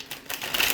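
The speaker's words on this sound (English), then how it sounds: "Shuffle of cards." A Witch's Tarot deck is shuffled by hand, giving a quick run of crisp, clicking card flutters that build slightly in loudness over less than a second, with no speech.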